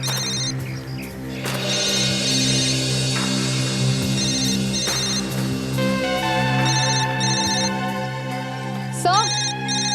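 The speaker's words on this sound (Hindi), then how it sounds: "सर ये देखिए सर, डॉक्टर सोनाली का मोबाइल फोन" A mobile phone rings out loud and steady with a repeating electronic ringtone, found lying in a dense forest during a search, with voices calling out over it.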